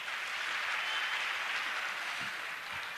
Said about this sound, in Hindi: आप लोग बहुत जोरदार ढंग से तालियां बजाते रहिएगा।